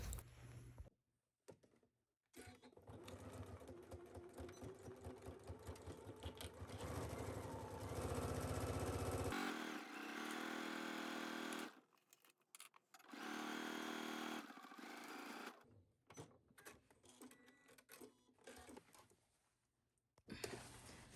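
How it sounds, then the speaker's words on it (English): A sewing machine runs a seam at close range in several bursts, with one long steady stretch in the middle and brief pauses between runs, with no one talking. "Sew this down at your machine at 5/8."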